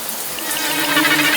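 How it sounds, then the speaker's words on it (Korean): Shower water running in a bathroom, a brief, loud, steady hiss of spraying water. "어디선가 달팽이관을 타고 들리는 물소리"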